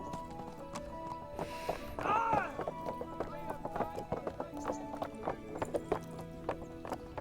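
Hooves clip-clop steadily as a horse gallops in the medieval role-playing game Kingdom Come: Deliverance, with a loud whinny early on and quiet talk in the background.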